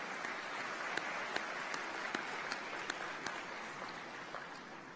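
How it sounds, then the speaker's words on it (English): A large audience at a sports awards and hall of fame ceremony applauds steadily throughout, a dense continuous wash of clapping with a few sharper individual claps standing out, heard at a moderate distance. "give our athletes, our nominees here tonight, a hearty round of applause for their remarkable achievements"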